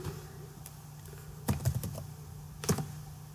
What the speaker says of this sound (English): let's type in employee name